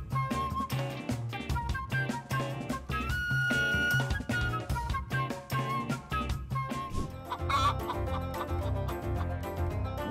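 A chicken caught on CCTV clucks repeatedly, its clucks mixed into dense, loud background music.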